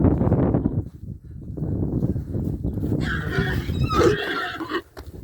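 Low rumbling snorts and breathy noise from a stallion lead into a high, wavering whinny near the end, fairly close and loud.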